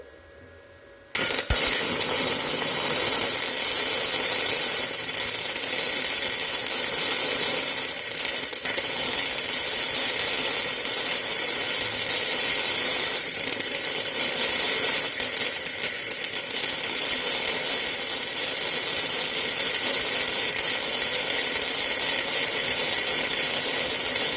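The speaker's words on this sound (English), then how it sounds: "Now, I'll try and do some welding." A welding machine running on scrap metal, a loud steady crackling buzz that starts abruptly after a quiet second and holds continuously, close up, with no talking.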